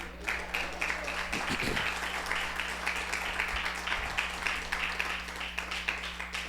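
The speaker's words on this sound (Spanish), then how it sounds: "Denle un aplauso al Señor amado." Congregation applauding during a church sermon, a steady wash of clapping over a constant low hum, with a brief voice near the start.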